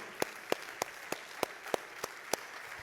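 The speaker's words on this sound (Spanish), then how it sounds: "Dale un fuerte aplauso al Señor." A church congregation applauds during a sermon, heard as a sequence of about eight evenly spaced sharp claps, fairly faint against a quiet room.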